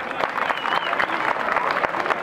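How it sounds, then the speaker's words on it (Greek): Audience applause at a village wine festival in Peleta as a traditional orchestra is welcomed: dense, steady clapping from a crowd, moderately loud and continuous, with a faint voice or two mixed in. "Πάλι χειροκρότημα θέλω"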